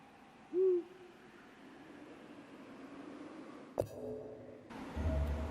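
An owl hoots once in the video game D4: Dark Dreams Don't Die, a short clear hoot over a quiet, hissy game ambience, followed later by a sharp clatter and a low rumbling tone.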